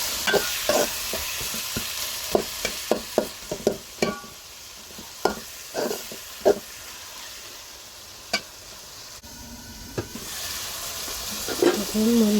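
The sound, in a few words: stirring and frying prawn bhuna in a pan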